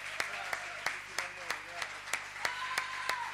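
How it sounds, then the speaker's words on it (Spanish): Applause at a live Argentine comedy stage show: sharp, evenly spaced single claps, about three per second, ring out over a murmuring audience and some voice. "¡Fuerte el aplauso!"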